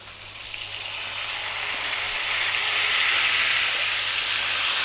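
A whole sea bass fries in a hot pan just after being turned, giving a loud, continuous bright sizzle and hiss that swells slightly and holds steady, with no voices.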